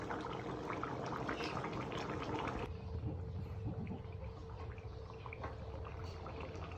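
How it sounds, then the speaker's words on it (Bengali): Meat, pre-cooked in a pressure cooker, is stir-fried in a pan for a Mezbani-style beef curry, giving a steady, close sizzle and bubbling hiss that runs unbroken throughout. "এটা জাস্ট আমি কষাচ্ছি।"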